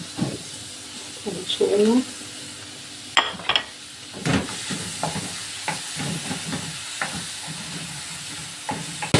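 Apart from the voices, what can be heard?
chopped onions frying in oil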